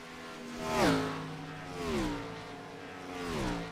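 A NASCAR race car engine in the iRacing video game at Kansas Speedway drones loudly and steadily, rising and falling in pitch three times as the car sweeps past and shifts, with a sustained buzzy whine throughout.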